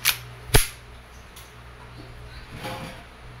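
An E&C Glock 19X airsoft pistol in tan is test fired, giving two sharp close snaps about half a second apart followed by quieter mechanical clicks and handling noise.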